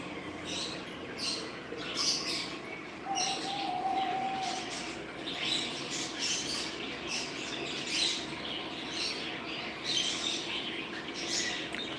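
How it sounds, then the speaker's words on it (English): A crowd of birds chirps and calls inside a pet shop in Saudi Arabia, dense overlapping tweets and cooing in repeated busy bursts, close and fairly loud throughout. "You got a lot of birds."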